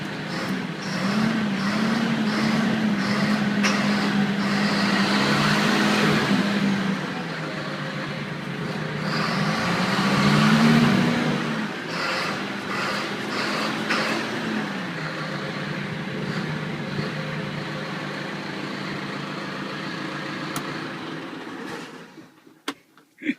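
A 2012 John Deere 6430 tractor engine fires up from cold and idles with a steady, loud diesel drone, briefly rising in pitch as it revs before settling and cutting off near the end.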